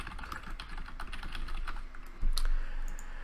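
A quick run of computer keyboard typing entering a name into a form, close and steady with light clicking keystrokes and one heavier key press near the end, no voices.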